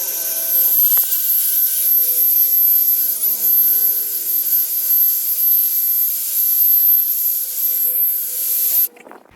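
Wet carpet in the trunk of a 1997 Land Cruiser being scrubbed with a brush, a steady close rasping hiss with a faint high whine running underneath, cutting off near the end.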